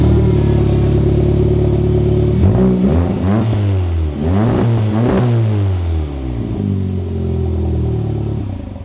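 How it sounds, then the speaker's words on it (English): An Audi S3 engine runs with its muffler disconnected, a loud, raw exhaust drone close up, with several sharp revs rising and falling mid-way before settling back to a rough idle. "we're gonna start up the car now that the muffler's not connected"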